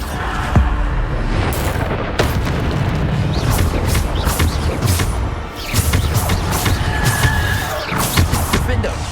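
Bombarda spell explosions in Hogwarts Legacy combat, with a run of loud, sharp crashing booms and rumbles repeating irregularly through busy game noise.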